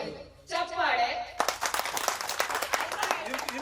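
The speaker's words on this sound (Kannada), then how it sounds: "ಚಪ್ಪಾಳೆ." Applause from the audience at a college alumni celebration, with dense clapping that starts partway through and carries on steadily after a short stretch of voice at the start.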